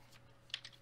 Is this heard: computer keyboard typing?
yes